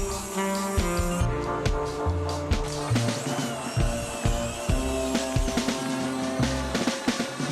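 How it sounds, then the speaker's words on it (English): A power drill bores a drainage outlet through the bottom of a fiberglass bathtub in a factory, a close whirring drill tone with sharp grinding bursts and tonal machine hum throughout, no voices. "a drainage outlet is drilled into the bottom"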